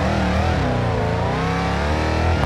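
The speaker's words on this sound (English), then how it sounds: "I'm driving a Hellcat speeding through these back roads" A Dodge Hellcat engine in the game BeamNG Drive, revving loud and close with a steady, rising roar of acceleration at speed.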